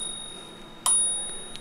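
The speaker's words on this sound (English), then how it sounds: "This is an integrated little bell," The integrated bell on an Okai Beetle electric folding scooter gives a single bright, clear ding that rings out and slowly fades, heard alone against quiet background hiss.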